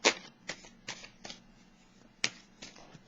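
Tarot cards shuffle and get drawn in a handful of crisp riffling bursts and flicks, close and moderately quiet, with short pauses between each burst and no talking.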